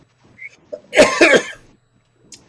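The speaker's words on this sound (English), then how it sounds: "Cough always gets to me after about like an hour." A short burst of coughing, two or three harsh hacks close together, loud and close, with faint rustling before and after.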